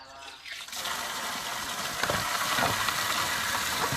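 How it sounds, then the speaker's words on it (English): Water runs hard into a bucket for washing coffee at a farm, a loud steady rushing hiss that starts after a brief quiet moment and continues without a break. "So now you're gonna fill the bucket with water again"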